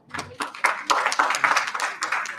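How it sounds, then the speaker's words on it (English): Audience applause for a keynote speaker at a two-day workshop on intellectual property rights: dense, steady clapping from a room of people that starts suddenly and keeps up evenly for a couple of seconds. "Kindly give a standing ovation, everyone"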